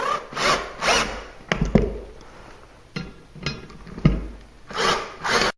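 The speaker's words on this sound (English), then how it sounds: "Now that they're all set, it's time to tighten them up, make that adjustment." Shelf brackets are tightened against drywall with a tool, making several short, close scraping and grinding bursts separated by brief pauses, heard alone.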